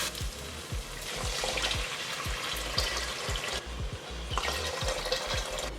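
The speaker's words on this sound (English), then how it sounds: "just let it sear like that for a couple minutes and then add the water" Water poured into a hot pan of seared rice coated in tomato sauce: a steady bubbling sizzle with crackling spatter, fairly quiet and continuous, a low repeating thump underneath, no voices.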